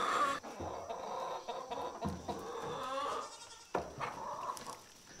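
Farm chickens cluck and squawk in a busy, overlapping chorus as they are let out for the morning, close by and steady throughout with no talking.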